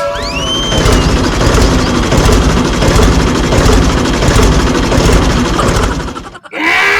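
A heavy engine chugs loudly and steadily close by, with a rapid rhythmic rattle, then briefly cuts out near the end.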